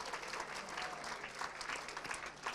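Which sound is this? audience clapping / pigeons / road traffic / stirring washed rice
audience clapping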